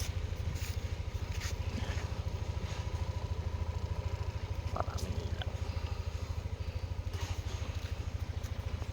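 A Yamaha NMAX scooter's engine runs steadily at idle after being started, a close, even low putter throughout with faint clatter and no talk.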